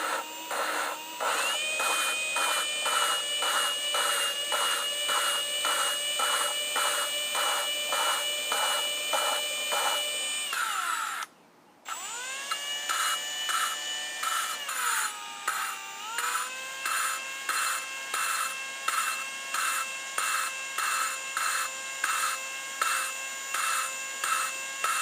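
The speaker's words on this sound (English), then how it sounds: "lightly lap the valves into the cylinder head" Valves being lapped into a Kohler twin engine cylinder head with a drill-driven tool, a steady whirring grind pulsing in rapid regular strokes, close and continuous, with one brief break midway.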